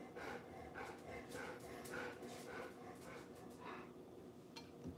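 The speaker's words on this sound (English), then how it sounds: "My dogs are breathing on me over here because they want a snack." Several dogs close by pant and breathe hard in quick, rhythmic bursts, with occasional snorts, the sounds soft but steady throughout.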